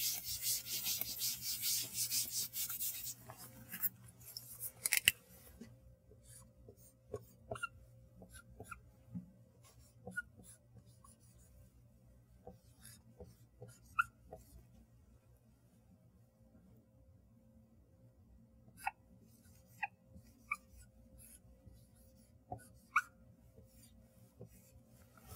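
A pen scratching and tapping on paper or a board during a nanoelectronics lecture, faint sparse strokes and clicks spread across a quiet room after a brief rustle at the start, with no speech.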